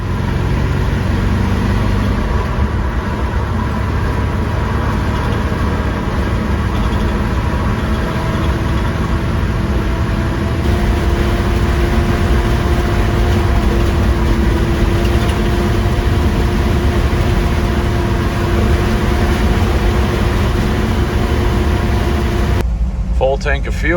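A 1942 Ford pickup truck drives on the road, its engine a loud, steady, low drone with constant road rumble and no talk.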